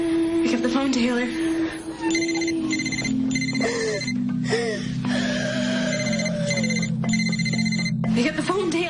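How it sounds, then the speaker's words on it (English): A telephone rings in repeated electronic bursts over a low sustained musical tone, fairly loud and close, with a short voice-like sound at the start and end. "Pick up the phone, Taylor."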